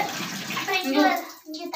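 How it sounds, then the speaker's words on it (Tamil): A bathroom tap at home is turned on, and water gushes and splashes loudly and close by before cutting off briefly, with a voice speaking over it. "தண்ணி இங்க திருக்கி விட்டா தண்ணி குளிக்கிறதுக்கு தண்ணி வந்துடும்"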